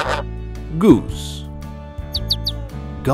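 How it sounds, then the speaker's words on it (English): Gosling peeping: a few short, high chirps cut in over a low steady background, with a brief rapid burst of peeps near the end. "Gosling."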